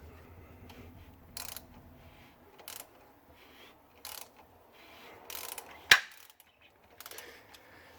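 A freed, previously seized engine crankshaft on a Toyota Corolla rocked back and forth gives short separate metallic ratcheting clicks and clunks in quiet surroundings, with one sharper knock near the middle.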